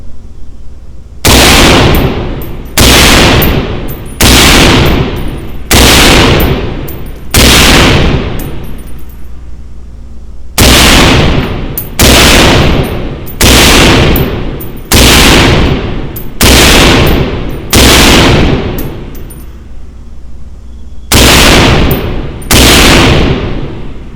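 A POF USA Rogue pistol fired with a suppressor at a target range: about seventeen loud, close, evenly spaced shots in several groups with short pauses between them, and no talking.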